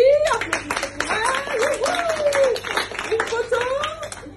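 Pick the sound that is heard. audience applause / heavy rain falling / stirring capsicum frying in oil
audience applause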